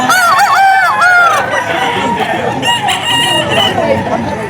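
Green-legged Henny gamecock crowing at a rooster sale in Bocaue, a drawn-out wavering call followed by further crowing and clucking from other fowl nearby, with faint voices in the background.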